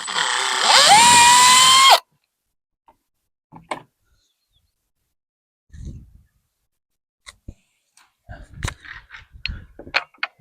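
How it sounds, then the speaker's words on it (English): A power drill bores holes for a gate bar in a loud, steady whine lasting about two seconds, then stops; scattered knocks and handling clatter of tools and metal follow. "take a pencil and mark the center of both of my holes and pull it out and drill those out"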